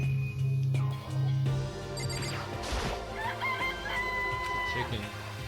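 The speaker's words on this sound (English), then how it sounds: "These even had chickens, huh? They're just regular chickens, right?" Chickens in the Danganronpa video game cluck and crow close by, with a long rooster crow early on, then clucking over electronic game music and chiming tones.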